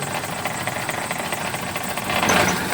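A Suzuki F6A engine in a mini van runs unevenly while being revved, a dense, rough mechanical drone with irregular knocking pulses that swells louder near the end.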